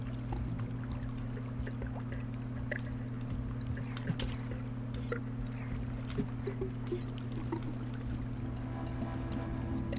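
A character swims through water in the video game Rain World, soft splashing and paddling pulses scattered over a constant low electronic drone that runs steadily beneath them.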